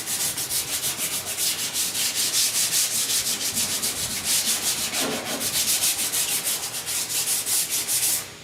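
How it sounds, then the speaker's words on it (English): Steady hand sanding of body filler on the cowl of a 1969 Chevy C10, a continuous close rasping rub with even back-and-forth strokes, alone without talk. "Let me just use the hand sand because that makes me feel better."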